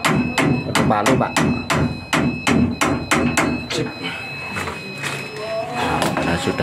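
Hammer striking during installation of an electricity fuse, a rapid run of sharp metallic blows that later slow and thin out, with background hum and faint voices.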